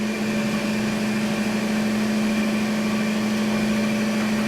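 An electric mixer whirring steadily as it blends mango mousse ingredients, whipped topping and instant pudding, a constant even motor hum with a strong tonal drone, close and unbroken, no voices.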